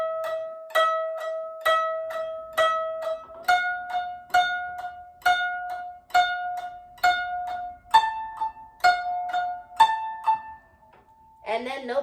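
Koto plucked on strings 11 and 13 with a full push held on the string, a steady series of bright single plucks at an even rhythm, pitch stepping up as the push bends the string, close and alone, a brief voice at the very end.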